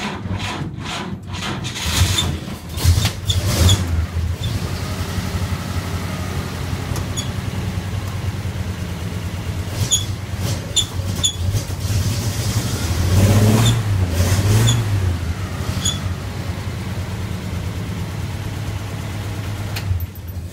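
A 1947 GMC truck engine starts and runs steadily, with a continuous low rumble and a rough, rasping idle that swells briefly in the middle, loud and close, with no voices over it.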